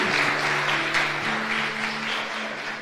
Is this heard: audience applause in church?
yes